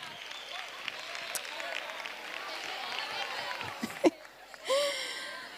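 Audience applause and crowd noise at the final of a carnival contest in San Roque, a moderate spread of clapping and chatter with a voice speaking and a couple of sharp knocks near the end.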